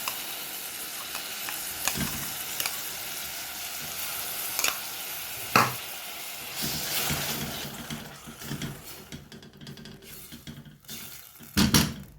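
Homemade sauce for egg curry sizzling in a hot pan while being stirred, a steady frying hiss broken by a few scraping clicks and louder utensil knocks near the end.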